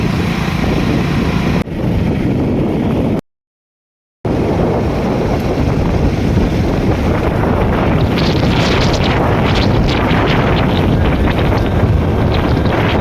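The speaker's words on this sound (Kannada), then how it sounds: "ಫುಲ್ ಗಾಳಿ ಮಳೆ ಅಡಮಳೆ ಚಾಲೂ ಆಗಿದೆ" Loud, roaring wind buffets the microphone continuously during a heavy downpour, with a brief dropout partway through; the rain itself is not distinct beneath the gusts.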